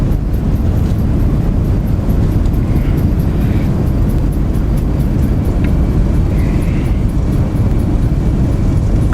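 Boeing 737 Max 8 thrust reversers roar during a landing rollout in X-Plane 12, a loud, steady, broadband rumble that holds without pause throughout.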